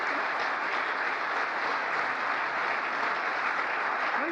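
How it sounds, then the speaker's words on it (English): Sustained, dense audience applause fills the room at a political speech marking the Inflation Reduction Act anniversary, steady and loud throughout with no voices rising above it. "That's an applause line."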